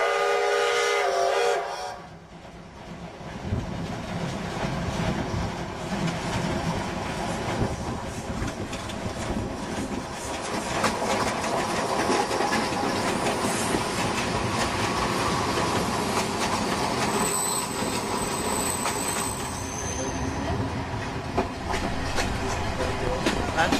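A steam train in the Balkans passes close by, opening with a sharp whistle blast and then a continuous loud chuffing and rattling of wagons that lasts throughout, with no talk.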